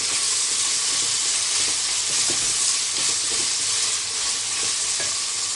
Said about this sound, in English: I am also adding the crystal salt, approximately 1 tablespoon. I'm gonna saute this.